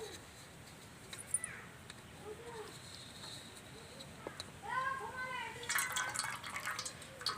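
Water drips and trickles as freshly made chhena is strained in a cloth, with faint, sparse droplets and a gentle splashing stream, quiet and close.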